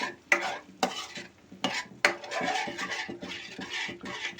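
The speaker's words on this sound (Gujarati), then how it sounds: "દહીંને આપણે આ હલાવ્યા કરીશું" Curd is stirred into a dhaba-style egg curry gravy in a pan, with repeated spoon scrapes in a steady rhythm over a soft background sizzle.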